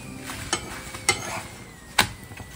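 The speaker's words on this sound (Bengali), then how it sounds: "আর এই যে পরোটা ভাজছি" A wheat-flour paratha fries in a pan with a little organic cow ghee, giving a faint, low sizzle. Three sharp spatula clicks against the pan sound close by.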